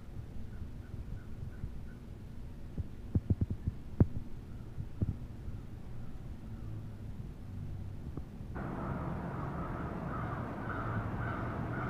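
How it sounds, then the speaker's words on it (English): Crows cawing outside a window, a few faint, distant caws early on against a low steady hum, followed by scattered soft knocks and a hiss that rises later. "There's crows outside my window."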